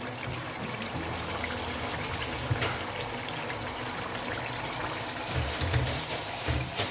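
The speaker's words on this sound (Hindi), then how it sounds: "अब हम इसके अंदर डाल देंगे थोड़ा सा गर्म पानी और इसको गलने के लिए रखेंगे" Hot water pours into a pot of frying mutton for aloo gosht, a steady close rush and trickle of liquid with a sizzling hiss underneath, swelling slightly near the end.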